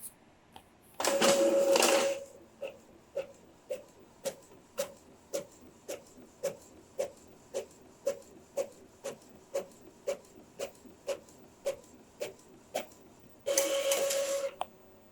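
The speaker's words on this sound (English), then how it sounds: "So right now we'll be printing the test page." An Epson L5190 EcoTank all-in-one printer prints a test page on A4 paper: a whirring feed burst, then a long run of evenly spaced mechanical clicks, and another whirring burst at the end, all close and alone.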